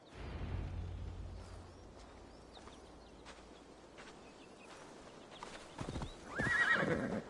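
Hooves clip-clop steadily from a horse ridden through a Gloucestershire forest in Assassin's Creed Valhalla, and a loud whinny rises near the end of the ride. No one speaks.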